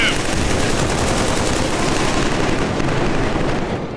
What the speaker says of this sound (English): the stellar sound design makes sure you hear every bullet that whizzes by